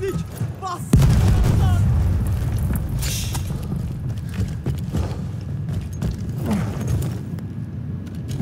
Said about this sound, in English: Bomba fırlatıyorum, dikkat eyleyin.